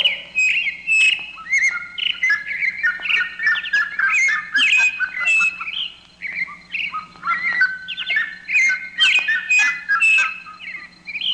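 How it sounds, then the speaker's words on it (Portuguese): Birds sing steadily and close, with dense overlapping chirps, trills and whistled phrases over a faint low hum and no talking. "Deixa os passarinhos agora."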